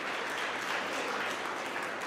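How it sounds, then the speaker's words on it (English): Conference attendees applaud a panel of speakers, producing a brief, dense wash of clapping from a sizable crowd that stays even and continuous. "Could you give them a round of applause again?"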